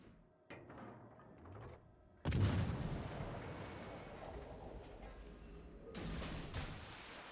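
Warship main guns firing armor-piercing shells in World of Warships Legends: a sudden heavy boom at about two seconds with a long rumbling tail, followed by another loud blast near the end, after fainter earlier thuds.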